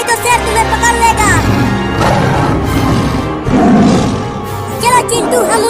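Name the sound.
cartoon lion roaring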